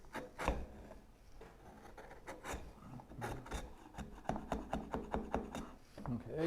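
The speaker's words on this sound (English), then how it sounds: "We're just fine-tuning these sliding dovetails" Sliding dovetails for a wooden Moxon vise are fine-tuned with repeated rasping and scraping strokes, starting irregular and then quickening into a steady rhythm of short, close strokes with light taps between.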